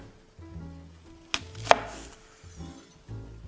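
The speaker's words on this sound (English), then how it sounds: "And again, just run your knife through it." A knife slices through raw chicken on a cutting board, with two sharp thuds of the blade meeting the board amid quieter cutting and handling sounds nearby.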